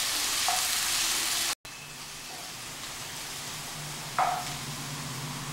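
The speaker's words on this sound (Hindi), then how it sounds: "इसको थोड़ा जल्दी जल्दी हिलाएंगे जिससे कि हमारे प्याज लग न जाए और डार्क ब्राउन हो जाए" Chopped onions sizzle steadily in a hot pan for egg bhurji, stirred quickly to keep them from sticking, with a couple of sharp scraping strokes over the continuous fry hiss; no talking.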